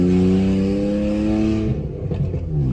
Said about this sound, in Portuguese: MPI só difusor é esse aqui que você tá ouvindo, ó.